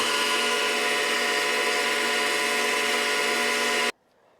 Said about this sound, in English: Now I can just sand it.